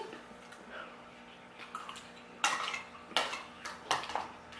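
Spoon clinking against a dish while grapes are eaten fast in a timed challenge: a quiet run of small taps, then several sharp, close metallic scrapes and clatters toward the end.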